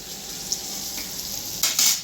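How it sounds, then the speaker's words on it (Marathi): Fish, a tambe (pomfret-type) catch, fries in a pan with a steady hissing sizzle, a small clink near the middle and a couple of louder spattering bursts toward the end; no voices. "आता आपण मच्छी फ्राय करून घेऊया व्यवस्थित"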